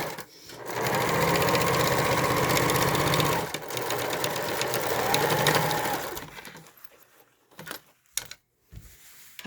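A sewing machine stitches recycled denim for a jeans coin purse, running steadily in two bursts with a brief pause between them, then stopping, followed by a few clicks and handling noises.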